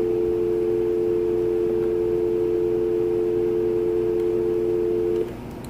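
Polycom SE-220 conference phone sounds a steady, pure electronic tone that holds for about five seconds, then stops abruptly, leaving a quieter background hum.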